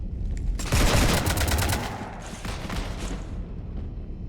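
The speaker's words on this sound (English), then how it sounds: "You want to stop shooting up my ship?" Rapid automatic gunfire in the Mass Effect 3 video game, a dense, loud volley of shots that runs continuously for a few seconds, then eases off slightly.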